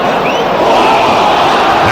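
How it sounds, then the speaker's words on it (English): A stadium crowd at a Coventry City versus Sunderland football match roars steadily, a loud, dense and continuous wash of cheering and voices from many people. "The crowd always lights up whenever he's in possession."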